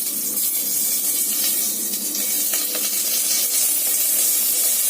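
Dry red chillies and bay leaf dropped into hot ghee for cholar dal set up a continuous loud hissing sizzle, steady and close throughout with no talking.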